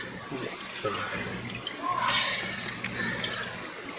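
Water being drawn out of a nano aquarium tank: soft trickling and sloshing liquid sounds, fairly close and quiet, with a brief brighter splash midway and faint speech in the background.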